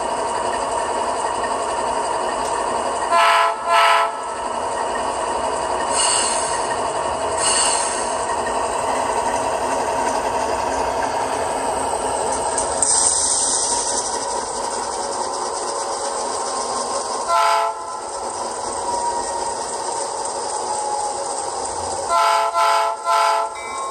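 An HO scale Athearn Genesis AC4400CW Southern Pacific model locomotive runs with a loud, steady throaty engine rumble, broken by several short horn blasts, with no talk.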